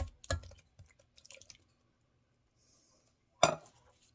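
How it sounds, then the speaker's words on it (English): Canned diced tomatoes go into a cooking pot for spaghetti sauce in a home kitchen, making soft wet plops and light clinks, followed a few seconds later by one louder clattering splash. "So here goes the diced tomatoes."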